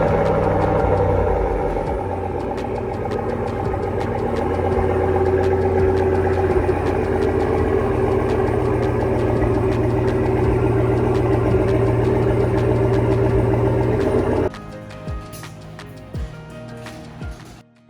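Truck engine idling as it creeps into a garage, a steady loud low rumble with a faint higher whine, continuing for about fourteen seconds before it suddenly cuts off, leaving quiet clicks and ticks.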